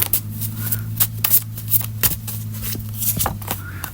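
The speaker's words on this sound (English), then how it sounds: "Let me pull another card." Tarot cards being shuffled and drawn, with a run of brisk papery riffles and flicks recurring over a low steady hum, close and moderately loud.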